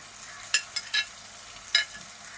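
Whole green chilies drop into hot oil for a homestyle Kerala fish curry, giving a few brief sharp sizzling spurts over a quiet, faint background.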